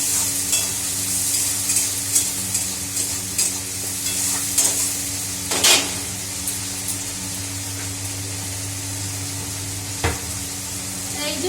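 Ground spice paste sautés in a pan for potato curry, a steady sizzle under repeated scraping strokes of a stirring spoon, with a few louder clinks against the pan and no speech.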